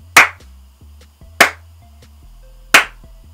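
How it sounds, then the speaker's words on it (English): Three sharp, loud hand claps spaced about a second and a quarter apart, each ringing briefly in a quiet room, with faint small knocks between them and no voices. "I'm going to give you guys another clap for making it to the end of the year"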